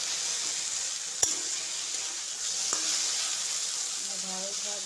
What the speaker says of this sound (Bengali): এই যে ঢেঁড়স ভাজছি,